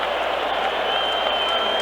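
Dense, steady roar of a large baseball stadium crowd cheering as the Tigers protect a late four-run lead in the final inning of the World Series, a continuous wash of noise with no break.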